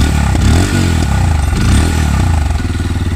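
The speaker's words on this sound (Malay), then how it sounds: "Okey, dengar sikit dia punya exhaust dia." A CFMOTO Papio XO-1 motorcycle exhaust revs loudly and close up, its engine note rising and falling in repeated throttle blips with a rough, rumbling idle between.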